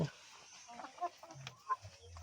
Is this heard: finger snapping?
no